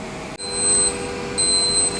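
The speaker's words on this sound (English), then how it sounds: "Okay, buzzer's gone off" A high, steady electronic oven timer buzzer sounds twice in quick succession over a low background hum, fairly faint and with no voices.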